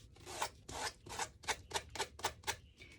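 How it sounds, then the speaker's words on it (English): Sandpaper rubbing along a fabric edge while making a monogram lemon tag: about ten quick, close, fairly quiet rasping strokes in a steady rhythm, with no voices. "you just sand the edge until you just pretty much cut the fabric"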